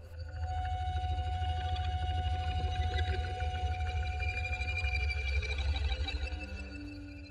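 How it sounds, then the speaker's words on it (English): Apprehension Engine horror instrument producing an eerie, disturbing drone with a low rumbling bed, a sustained ringing tone and wavering bowed-like textures, steady and moderately quiet with no voices. "The Apprehension Engine, an instrument dedicated to bringing you disturbing, horror-ridden sounds like this."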